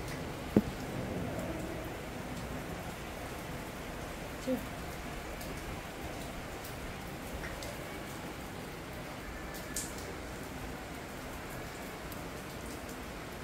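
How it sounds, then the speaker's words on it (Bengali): Rain falls steadily, a constant close patter on surfaces with the odd louder drip or tick standing out. "বৃষ্টি যে না শেষ হবে না গো।"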